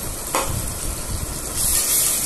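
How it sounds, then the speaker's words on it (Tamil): Ginger garlic paste sautéing with onions in a pan for kidney bean biryani, a loud close hissing sizzle with stirring rustles and a brief scrape, swelling near the end, with no talk. "இஞ்சி பூண்டு பேஸ்ட் போட்டு நல்லா வதக்கி விடணுங்க"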